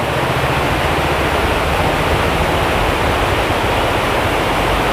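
Water flowing in a village stream, a steady broadband rushing that stays loud and close without a break.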